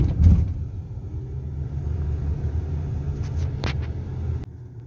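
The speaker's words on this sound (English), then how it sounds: "That's a car park." Cars pass through a car park at IKEA Festival Plaza with a close, continuous low rumble of engines and tyres and a few brief higher noises; no one speaks.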